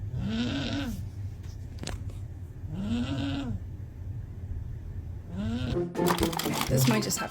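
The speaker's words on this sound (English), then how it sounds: "My cat is snoring really loud." A cat snores loudly and close by, three long rasping breaths in a slow, even rhythm, followed by a brief rustle of movement.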